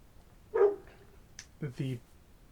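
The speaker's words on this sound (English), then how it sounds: "my dog's barking in the background" A dog barks indoors in the background, giving a short burst of a couple of yaps followed by another brief pair, moderately faint and separated by quiet.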